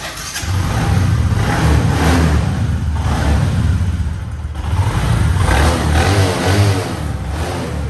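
Red Bajaj Platina motorcycle with self start, dual headlights and CBS double brakes idling and revving, a loud, close, steady engine roar that swells and dips, no talk over it.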